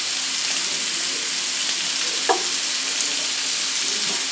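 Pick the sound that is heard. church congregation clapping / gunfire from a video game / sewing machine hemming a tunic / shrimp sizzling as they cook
shrimp sizzling as they cook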